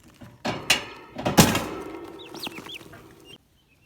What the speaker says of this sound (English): So in here we have got some more day-old turkeys.